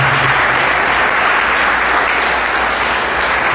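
Congregation in a church clapping together, a loud, steady, continuous burst of applause filling the whole moment without letting up.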